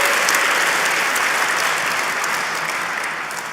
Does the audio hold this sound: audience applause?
yes